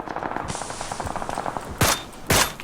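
Rapid gunfire in PUBG (Battlegrounds), a quick rattling burst of close shots followed by two louder, sharper cracks near the end, with players talking over it.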